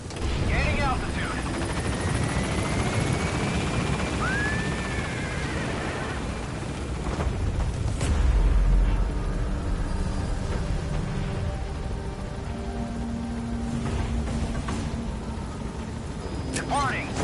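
Helicopter lifting off in Metal Gear Solid 5, a steady whirring rotor and engine drone running throughout, swelling slightly midway, with radio-style voices and game effects layered over it.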